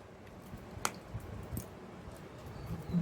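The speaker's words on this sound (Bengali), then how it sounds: "এইভাবে আমি পুরো এঁচড়টা কেটে নেব।" Knife slicing through raw jackfruit, cutting it into smaller pieces with the hard core trimmed away, giving a few sharp, isolated cuts and squishy crunches over quiet background.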